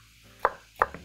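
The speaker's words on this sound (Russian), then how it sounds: "И также мелко нарезаем картошку" Knife chopping potatoes finely on a board for a Polish village bacon soup: two sharp, close blade strikes about a third of a second apart, followed by a softer third tap, with no talking.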